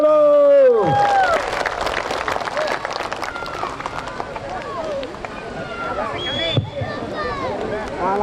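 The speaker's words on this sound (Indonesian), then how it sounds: "Kita tepuk tangan dulu." An audience at a village campaign meeting breaks into a dense burst of clapping that swells and then fades, with a voice speaking over it.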